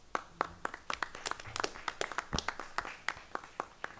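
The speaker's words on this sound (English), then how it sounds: "So we applaud her as well." A scattered round of hand clapping at a school committee meeting, sparse and uneven with distinct individual claps, fading toward the end.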